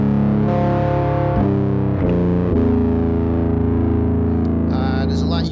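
Electric guitar played through an amp with a digital distortion pedal, heavy sustained distorted chords changing every second or so, loud and continuous, with a brief higher squealing figure near the end.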